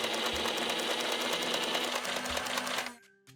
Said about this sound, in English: the blaster, even though it continued to fire, made a different sound effect